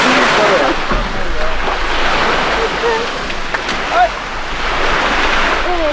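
Steady surf washes in with a continuous roar, waves breaking nearby under a faint breeze, with occasional voices and gull-like cries in the background.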